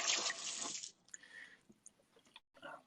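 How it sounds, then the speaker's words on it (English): Hands being washed under a running kitchen tap, a steady close rush of water for about a second, then faint drips, splashes and small clatters as the flow stops. "So just give my hands a wash."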